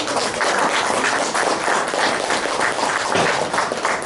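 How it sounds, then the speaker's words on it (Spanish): An audience at a workplace safety conference gives dense, sustained applause, many hands clapping evenly and loudly throughout the whole stretch with no talking. "vamos a darle un aplauso"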